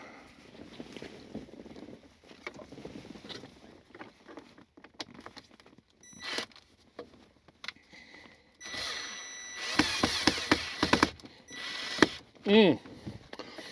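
Screws being turned out while a car's console base is removed, with soft, scattered clicks and scrapes of the tool, then a louder stretch of rubbing and grinding where a screw is caught in carpet.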